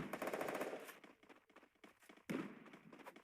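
Rapid bursts of machine gun fire in a shooter video game, a dense rattling stream that fades into scattered shots, then another loud burst erupts near the end.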